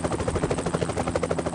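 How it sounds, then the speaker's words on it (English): A helicopter's rotor blades chop in a fast, even pulsing rhythm, loud and close, with no voices over it. "So we have to use a helicopter."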